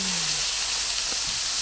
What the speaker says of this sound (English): Oh, look sizzling.